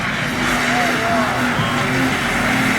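A Kia Stinger slides at a street takeover, loud roaring engine and wavering tire squeals rising and falling over a dense crowd-and-traffic wash, close and continuous.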